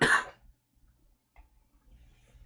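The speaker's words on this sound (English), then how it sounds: "In 1 second, I'm about to cough." A single sharp cough at the very start, then near silence with faint low rumbling and a small stir of noise later.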